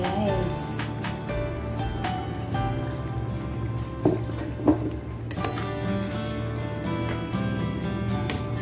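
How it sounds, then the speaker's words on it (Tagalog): Sayote (chayote) and patola (sponge gourd) vegetables boiling in a covered pot, giving a steady bubbling and simmering patter throughout with a couple of brief clinks partway. "Yan guys, kumukulo na po siya."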